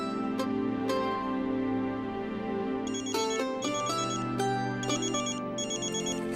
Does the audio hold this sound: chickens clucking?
no